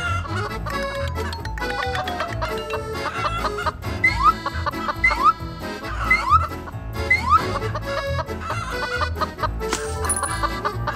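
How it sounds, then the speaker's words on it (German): Chickens cluck in a children's animated series, their clucks rising in short bursts over steady, busy background music. "Das Huhn sitzt auf den Eiern und brütet die Küken aus."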